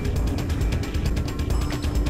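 Elevator machinery in the video game Mirror's Edge grinding and clicking in a rapid, even ratchet-like rhythm over a heavy low rumble, continuous and close.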